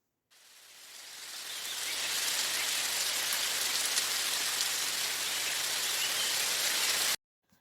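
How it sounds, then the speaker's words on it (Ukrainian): Recorded rain falling steadily, a dense even hiss that fades in over the first two seconds, holds constant and loud, then cuts off abruptly. "Так, мелодія дощу."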